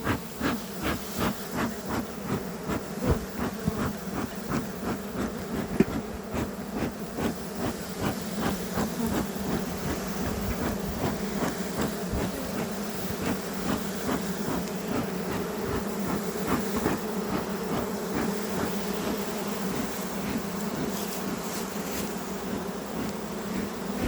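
Honey bees buzz continuously in an open hive, a dense, close drone with pulsing rises and soft hissing throughout.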